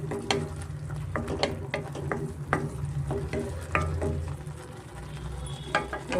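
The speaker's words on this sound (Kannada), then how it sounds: "ಸ್ವಲ್ಪ ನಾವು ಅದರ ಹಸಿ ವಾಸನೆ ಹೋಗೋವರೆಗೂ ಸ್ವಲ್ಪ ನಾವು ಫ್ರೈ ಮಾಡ್ಕೊಬೇಕಾಗುತ್ತೆ" Masala for a chicken fry sizzles in oil over a medium flame, with a steady low hiss broken by repeated scraping strokes of a spatula stirring the pan, close and moderately loud.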